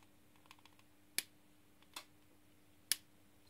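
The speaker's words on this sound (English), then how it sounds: "Trim the leads off." Side cutters trimming component leads on a freshly soldered LED clock and thermometer kit circuit board, three sharp separate snips about a second apart over quiet room hiss, with a few faint ticks before them.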